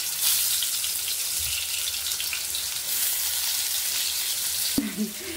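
Eggplant slices frying in hot oil on a griddle give a steady, close sizzle with fine crackling throughout, broken by one sharp clink near the end.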